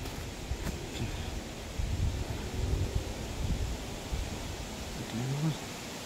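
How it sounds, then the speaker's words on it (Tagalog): Strong wind outdoors buffets the microphone with low rumbling gusts that swell and ease over several seconds, rustling in the background, with no clear voice on top. "Medyo malakas yung hangin."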